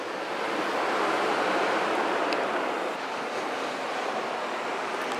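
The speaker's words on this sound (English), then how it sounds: "This is the ocean view." Ocean surf rolls onto a beach in a steady, loud broadband wash with no voices, wind buffeting the microphone throughout.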